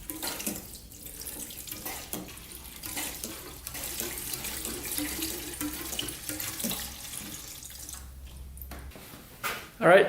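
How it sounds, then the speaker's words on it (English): Gasoline trickles and drains while being siphoned from a Honda TRX450r quad, a faint steady watery flow with small drips, close by, ending in a brief louder knock. "Siphon out the remaining gas in here."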